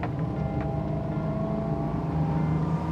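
A B-Craft Akoya motorboat's engine roars steadily at full throttle, a loud, continuous low drone with a constant hum and no voices.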